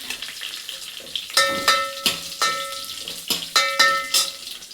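Byadagi chillies fry in hot oil for a tomato-free toor dal rasam, with a soft sizzle broken by a series of sharp stirring clinks against the pan, close and fairly loud.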